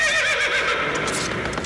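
A horse gives a loud, close neigh, a long quavering whinny that rises and trails off over almost two seconds.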